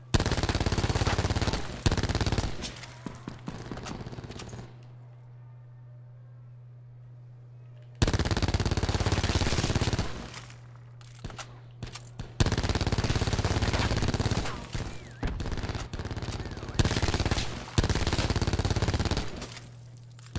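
Bursts of rapid automatic gunfire in Call of Duty: Black Ops 4, loud and dense, come in long stretches broken by brief pauses, with a constant low hum beneath.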